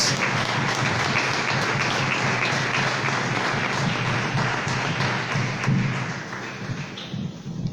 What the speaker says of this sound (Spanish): Aplaudile fuerte. Vos también desde tu hogar, aplaudile al Señor.